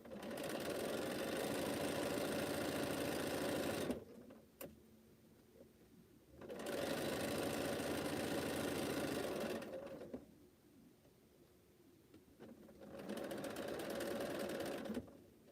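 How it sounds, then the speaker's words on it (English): Rows of a Cleopatra's Fan quilt block are joined on a sewing machine in straight seams, with three sustained runs of even stitching separated by quiet pauses, steady and fairly close. "when you're sewing your rows together, they're just straight."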